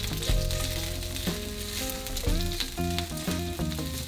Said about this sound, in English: When you hear that deep sizzle, it's time for the minced onion.